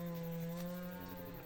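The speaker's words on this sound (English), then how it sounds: "We've got a couple of dead trees that he's felling," Chainsaw felling dead trees outdoors, a steady droning engine with strong tonal harmonics, heard faintly from a distance and running continuously without pause.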